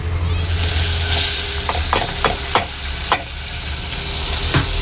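Tomatoes and green chili tipped into a pan of golden-fried moringa flowers, oil sizzling steadily while a spoon scrapes and stirs in several sharp clacks, close and alone.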